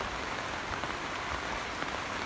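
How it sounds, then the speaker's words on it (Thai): Heavy rain pours down steadily, a dense, even hiss of drops drumming on surfaces, close and constant with no voices, as seasonal northern winds bring a downpour that threatens banana and papaya plants. "ฝนตกแรงมาก ลมมาจากภาคเหนือแล้วนะคะ"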